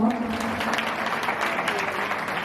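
Audience applause from a crowd at a live Gujarati folk performance event, steady broadband clapping sustained throughout at moderate level, with some voices mixed in.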